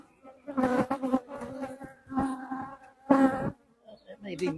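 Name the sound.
honeybees buzzing around an opened hive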